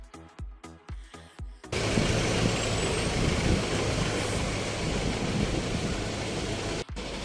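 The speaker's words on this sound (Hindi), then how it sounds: "थोड़ा सा ट्रैफिक भी लगा हुआ है यहाँ पे" Road traffic in Old Manali with buses and cars: a few rhythmic thumps open, then a loud, continuous rumble of engines and tires fills the rest, briefly dipping near the end.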